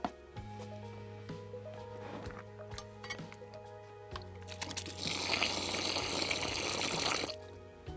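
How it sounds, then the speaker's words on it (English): Water poured into a dry sand and cement mortar mix for chimney repair, a rough gushing splash building midway and running steadily for a couple of seconds before stopping, with background hum throughout. "Now we add water and start to make the mortar."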